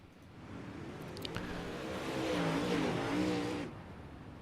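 UMP dirt track race cars roar around Volusia, a continuous engine drone that swells as the field passes nearby and then drops back to a distant hum.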